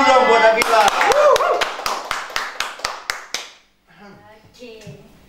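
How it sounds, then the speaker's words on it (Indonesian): Studio audience clapping in unison on an Indonesian talk show, a dozen sharp, evenly spaced claps over a dense crowd of hands, stopping abruptly, followed by a few voices talking. "Tepuk tangan dulu dong buat Nabila."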